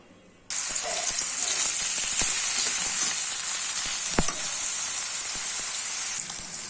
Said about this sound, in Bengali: এখন আমি শুটকিগুলা ভালোভাবে ভেজে নিব।